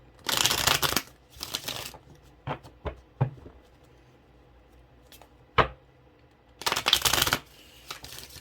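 Tarot cards are shuffled in three loud bursts, each with a quick riffling flutter, separated by scattered single taps and soft clicks of cards being squared and set down, with no voices.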